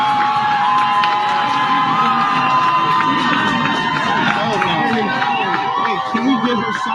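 A large crowd cheers and shouts loudly and continuously as CDC staff walk out, a dense wall of whoops and yelling with high voices mixed in and a few people's voices standing out nearby.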